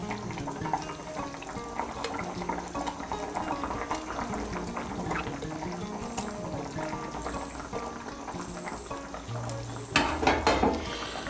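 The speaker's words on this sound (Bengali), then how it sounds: "এই দেখুন ঝোলটা ফুটে উঠেছে।" A pot of pea lentil gravy bubbles at a rolling boil, giving a continuous busy burbling, with a brief louder splashing surge near the end and no one talking.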